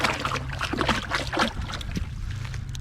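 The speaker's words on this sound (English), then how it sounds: "One good thing about it, the water is flowing right here." Water flows and burbles in a creek running beneath a demolished mill, a close, uneven splashing trickle that fades toward the end.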